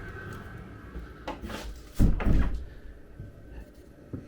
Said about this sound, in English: if we come inside, close our door